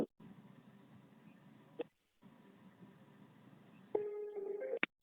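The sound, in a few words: telephone call connecting tone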